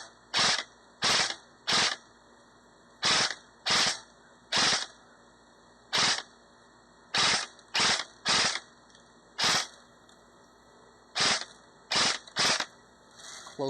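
Rapid bursts of airsoft BB gun fire ring out in uneven clusters of two and three shots, a long stream of sharp cracks spread across the whole stretch, fairly close and alone with no talk.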